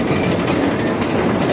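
The Leadville train rolls steadily along the rails, a loud, continuous rumble with a faint clatter from the wheels and no break in the sound.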